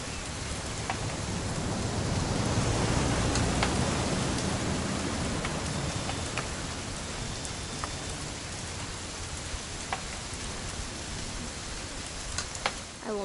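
Steady rain falling in the video game What Remains of Edith Finch, a dense even hiss of drops on surfaces with scattered individual patters, continuous and moderately quiet with no voices.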